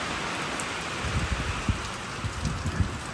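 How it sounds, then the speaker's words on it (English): Heavy rain pours steadily during a storm along a rural rail trail, a dense continuous hiss with scattered heavier drops and gusty thumps close by, no voices. "how heavy the rain actually is."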